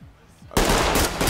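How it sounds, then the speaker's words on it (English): Loud automatic gunfire in Ready or Not, bursting in suddenly after a quiet moment and continuing as a dense rapid volley. "He shot at me first."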